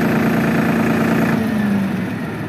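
A tractor engine idling steadily at close range, a loud continuous low rumble with a steady hum that drops slightly near the end as the engine is switched off.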